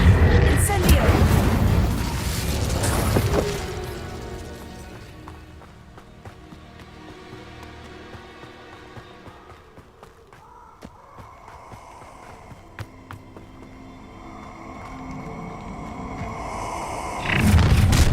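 An Incendio fire spell goes off in Hogwarts Legacy with a loud roaring burst at the start, followed by a quieter stretch of game effects and music before another loud whoosh at the end.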